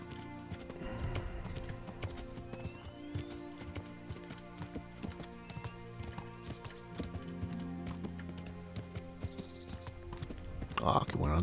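Horse hooves clip-clop along a road in Kingdom Come: Deliverance, an even trotting rhythm under game music, with a neigh near the end and faint keyboard clicks.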